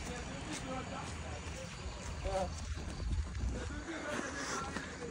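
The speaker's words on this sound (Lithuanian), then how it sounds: "Tokie arkliukai." Horses clip-clop along in Brazil after carrying riders, their hoof beats steady and fairly close beneath people talking throughout.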